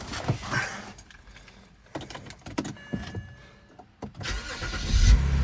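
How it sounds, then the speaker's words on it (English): BMW E90 330xi in rough condition: keys jangle, a starter cranks, and the engine catches and settles into a low idle near the end, close and moderately loud. "So let's fire her up."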